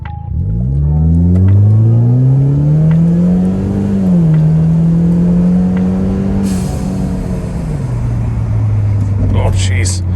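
A 2017 Ford Fusion in drag mode revs up hard, its engine pitch climbing, holding, then dropping as it shifts. The loud rising growl comes from up close, with a few brief sounds near the end.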